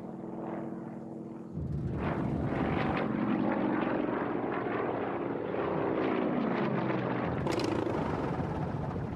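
Airplane engine droning steadily in flight, a loud continuous propeller roar that swells in after a quieter opening and holds for several seconds.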